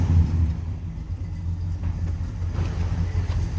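A 1966 Buick Skylark Gran Sport with no loud exhaust idles with a throaty, steady low rumble, heard from behind the car, constant and close with slight swells, no talking.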